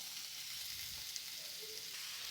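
Soft, even sizzle of sliced onions frying in a pan with fennel seeds for poori masala potato curry, a faint continuous hiss with no talking.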